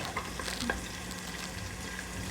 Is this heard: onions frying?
yes